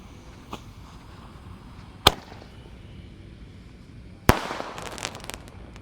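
Bazooka sonic boom fireworks going off outdoors at night during Ramadan, two sharp loud cracking bangs a couple of seconds apart, followed by faint crackling and fizzing.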